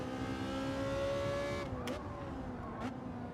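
A Porsche race car engine in Gran Turismo 7 drones with a steady, buzzing mechanical tone. Midway through, the pitch drops and shifts as the engine changes gear, with a couple of brief clicks following, all at a moderate, even level.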